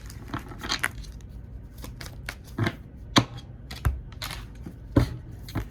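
Tarot cards are shuffled close by in a run of quick, crisp riffles and sharp taps, set apart by short pauses, at a soft level with no talking.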